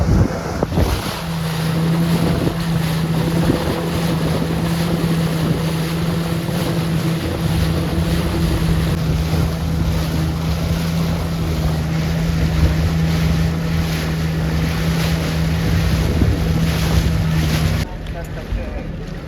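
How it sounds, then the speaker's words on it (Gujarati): A boat's engine drones steadily on a lake with a constant low hum, wind buffeting the microphone and water splashing alongside, continuous for the whole stretch before cutting off. "નવા બોટમાં રાઈડ કરવાની"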